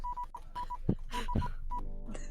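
Phone keypad tones beep in a quick irregular sequence while a number is entered, faint and steady, followed by a brief ringing tone at the end.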